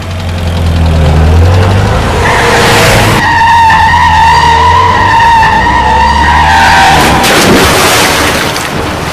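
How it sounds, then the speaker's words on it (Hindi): A car is started and driven off, giving a loud, close engine roar with a rising whine and tire-skid-like noise that carries on continuously throughout. "किशन ने गाड़ी स्टार्ट कर दी।"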